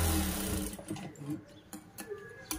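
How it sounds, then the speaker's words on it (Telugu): An electric sewing machine stitches a folded seam on a blouse, a loud close whirring run at first that fades into short intermittent bursts of stitching. "కుట్టిన తర్వాత ఇలా ఫోల్డ్ చేసి ఒకటి కదలకుండా స్టిచ్ చేసుకోవాలి."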